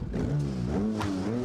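Simulated car engine revving hard in a racing game, a road sport car built for drag use, with a harsh, rising-and-falling buzzy drone that sounds rough and unpleasant, loud and close throughout.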